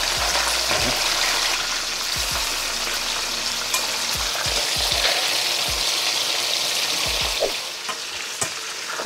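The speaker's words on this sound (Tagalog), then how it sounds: "Iprito na natin yung pork belly." Pork belly frying in avocado oil over low to medium heat gives a steady, loud sizzle and crackle throughout, with occasional low thumps and pops as the pan is handled.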